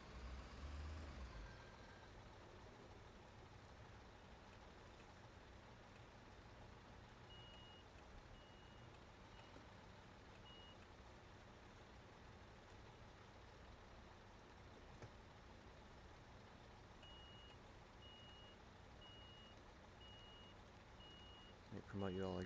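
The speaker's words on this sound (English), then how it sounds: "Let's see if I can back my truck up to the excavator" A construction truck in a video game backs up toward an excavator. Faint reversing beeps come in short bursts over a low, steady engine rumble, with a louder clunk at the start and the end.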